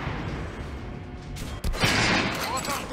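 Bursts of Metro: Last Light Redux gunfire crackle loudly, with a sharp crack midway followed by a dense volley of shots, all under steady background noise.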